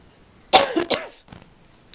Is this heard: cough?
yes